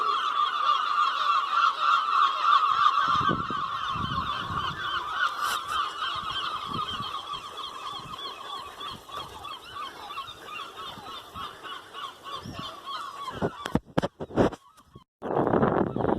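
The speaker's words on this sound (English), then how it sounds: "excellent roosting spots for the seagulls" A dense chorus of seagulls roosting on a quarry face in the hills near Barmouth calls continuously, loud and overlapping, with wind buffeting the microphone near the end.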